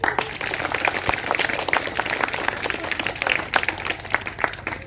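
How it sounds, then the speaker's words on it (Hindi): Loud applause from a crowd at a gathering in India, a steady wash of many hands clapping that holds for the full five seconds with no clear break. "जोरदार तालियां।"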